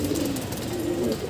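A pigeon coos with a low, soft rolling call, close by and continuous over the brief moment, with faint background noise and no speech.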